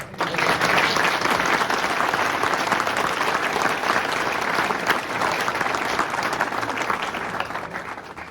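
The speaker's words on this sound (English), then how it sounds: "I think you deserve a second round of applause" Audience at a political launch event in a hall applauding a speaker, a sustained, even wash of many hands clapping at close range for the whole stretch.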